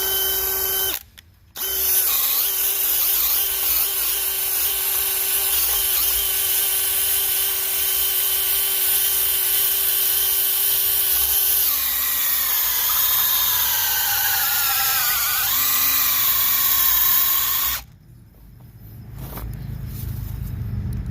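A Dewalt DCD996 hammer drill on speed 2 bores with a 1-inch Bosch Devil bit, whining loudly and steadily for about sixteen seconds, its pitch sagging as it loads up before stopping, followed by brief clunks.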